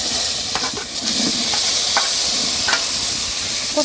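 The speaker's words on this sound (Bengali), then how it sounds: "আর হালকা করে এখন আমি ভেজে নিতেছি" Pointed gourd frying in mustard oil with turmeric in a pan, a steady loud sizzle and hiss with a few stirring scrapes, no talking.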